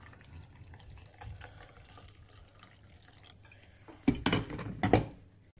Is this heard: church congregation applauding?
no